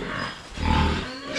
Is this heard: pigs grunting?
yes